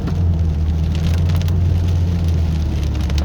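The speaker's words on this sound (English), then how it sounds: "It's pretty much straight rain." Rain falling on a car driving along Highway 38 during a winter storm, a steady loud wash of rain and road noise with a low engine rumble underneath, continuous and close.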